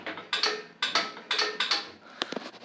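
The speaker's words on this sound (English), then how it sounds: "Hear it click." Small plastic-and-metal part from a refurbished 1969 Maytag washer clicking into place, a handful of sharp, close ticks spaced irregularly, quiet and alone.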